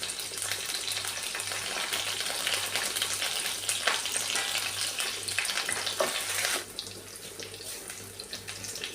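Crushed garlic and curry leaves fry in hot oil, making a continuous loud, hissing sizzle that crackles steadily up close, then drops to a softer spatter near the end.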